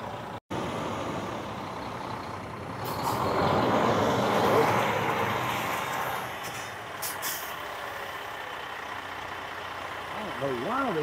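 A truck hauling a partial load of hardwood rumbles past at moderate distance, its engine swelling to a broad roar midway and then fading, with a hiss like air brakes and faint voices in the background.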